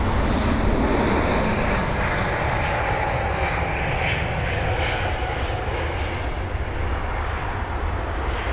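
A Lufthansa airliner on its takeoff roll at London Heathrow produces a loud, sustained jet engine roar with broad rumble, steady throughout and dominating the scene without pauses.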